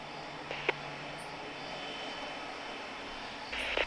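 Aircraft engine in Tower Simulator 3 during pushback at Lisbon, a steady faint jet hum running throughout, with a couple of soft clicks and a slight swell near the end.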